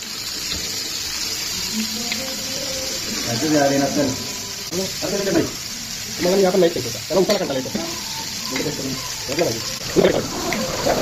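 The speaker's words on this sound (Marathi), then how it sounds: "इकडे कोंबडा मच्छी मसाला एकदम लावून ठेवलेला आहे। तर थोड्या वेळा तवा फ्राय करणार आहेत।" Chicken and fish coated in masala fry on a tava at a Badlapur farmhouse, giving a steady close sizzle with repeated scraping and stirring strokes through the middle and end, and occasional voices in the background.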